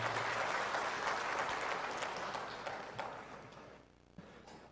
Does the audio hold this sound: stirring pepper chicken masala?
no